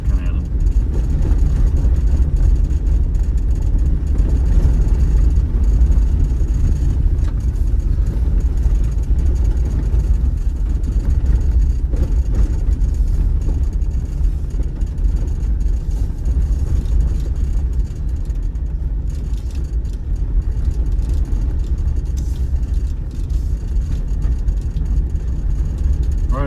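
Jeep Wrangler 4xe driving a rocky trail in 4-low, 8th gear, at about 2,200 RPM and roughly 22 mph, with a loud, steady, low engine drone and road rumble throughout and a person talking over it.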